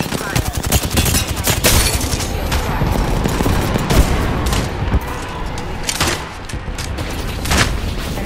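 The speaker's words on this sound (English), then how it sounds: "Airstrike." Airstrike explosions in a video game land as a chaotic barrage of booms and blasts mixed with rattling gunfire, loud and continuous with only a slight dip near the end, and some voices faintly under the noise.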